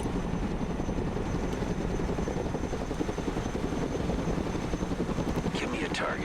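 Chinook helicopter in the Broken Arrow military strategy game, its rotor and engine drone steady and loud throughout, with rhythmic low thumping layered under game sounds and a brief rising tone near the end.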